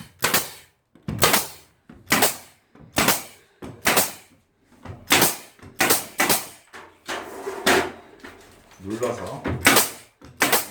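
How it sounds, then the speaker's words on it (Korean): A nail gun fires repeatedly into a wooden partition panel being fixed against a wall in a powder room, about a dozen sharp loud bangs at a steady pace, with someone talking between them. "밀착을 시켜서 박아줍니다"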